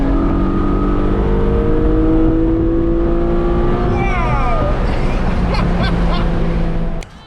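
A Porsche GT4 engine revving hard at high rpm, a loud sustained wail rising in pitch before a sharp upshift and dropping off at the end, heard close up.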